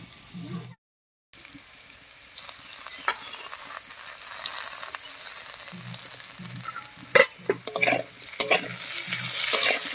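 Papaya and potato fry in a pan as cumin paste and slit green chili go in. A steady sizzle continues with stirring scrapes and clatters throughout, broken by a brief silent gap near the start.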